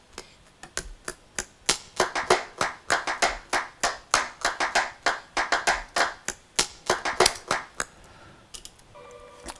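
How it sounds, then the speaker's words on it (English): A woman claps out a rhythm by hand, roughly thirty sharp, close claps in an uneven syncopated pattern, sometimes in quick pairs, recorded dry with no talk. "I managed to sort of capture her clapping a rhythm that kind of inspired that part."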